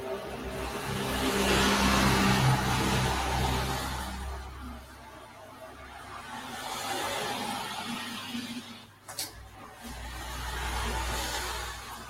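Cars pass by outside, their broad whooshing rumble swelling, fading and swelling again at a moderate distance, with a brief sharper sound near the end and no talking.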